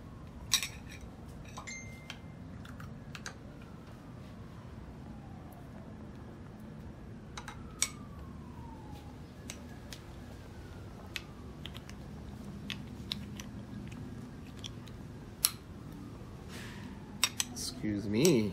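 Metal cutlery clinks and scrapes against a dish while eating a soft steamed glutinous rice flour dessert with creamy coconut milk; scattered light taps and clicks over a quiet background, close and fairly faint.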